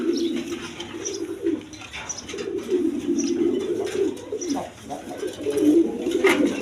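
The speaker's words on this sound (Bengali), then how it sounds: "দর্শক এখানে একটা লাহরি কবুতর আছে" A Lahori pigeon coos close by, its low rolling calls repeating almost continuously in throaty waves, with faint chirps from other birds in the background.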